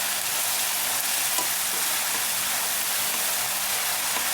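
Mackerel frying in a pan with sauce, a dense steady hiss and sizzle of hot oil close by, continuous with faint crackles and no speech.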